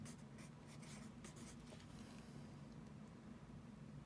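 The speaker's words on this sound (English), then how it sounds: "So now I'm going to write that out." Pen or pencil scratches quietly across paper while a math problem converting fractions to decimals is written out, in faint short strokes over a low steady background hum.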